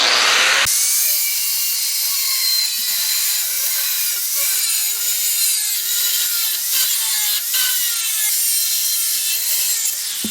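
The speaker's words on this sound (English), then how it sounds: "I'm using a cutoff wheel" A cutoff wheel grinds through 1084 steel for a blacksmith's hook knife, a loud steady high-pitched whine with shifting tones as the blade bites, running continuously for about ten seconds before cutting out.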